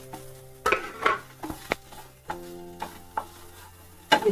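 Red and yellow bell peppers are stirred in a pan while cooking a breakfast dish, with a string of sharp spoon-on-pan scrapes and clinks. They are close and fairly loud, spaced irregularly, with no talking.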